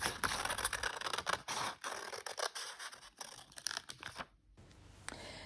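Scissors cutting paper wings for a toilet roll sculpture, a close series of crisp snips and rustling paper scrapes, quiet and without talk.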